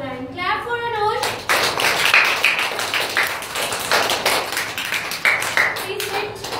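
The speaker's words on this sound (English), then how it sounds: "Clap for Anush." Schoolchildren clapping together in a classroom, a burst of many small hands in fast uneven rhythm lasting several seconds, close and lively, following a short sung or spoken phrase at the start.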